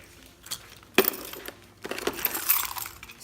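Keys jingle in a bag being packed for a swimming trip, a sharp metallic clink followed by a looser rattling shake, close and brief.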